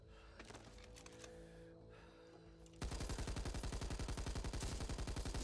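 Rapid gunfire from the Back 4 Blood video game crackles in a fast, steady string of loud shots through the second half, after a quieter stretch of scattered game sounds.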